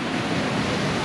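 Sea waves wash steadily onto a shallow sandy beach, a close, dense, continuous surf roar with some wind buffeting and no talking.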